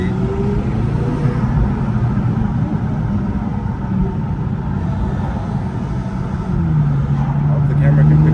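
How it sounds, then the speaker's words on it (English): McLaren 570S Coupe V8 engine running with a steady, deep rumble throughout, swelling slightly near the end, with talk over it. "You can listen to that V8."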